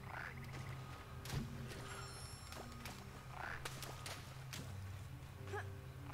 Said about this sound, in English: Oh, hello, frog.